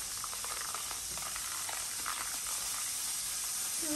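Liquid bubbling and sizzling steadily in a pot during home cooking, a continuous close hiss with soft popping textures throughout, no talking.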